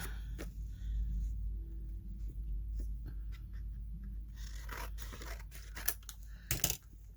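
Scissors trim a greeting card down to height for a handmade journal, first as scattered soft snips and paper rustles, then as a quicker burst of louder cuts near the end over a low background rumble.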